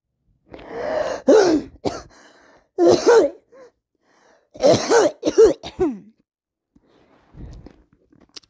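Several harsh coughing bursts in a short series, close and fairly loud, separated by brief pauses, with a faint rough sound trailing at the end.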